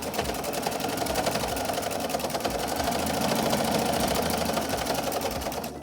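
A home sewing machine stitches down and back up along a pleated fabric mask, avoiding the metal pipe cleaner, with a steady rapid mechanical whir running continuously and close throughout.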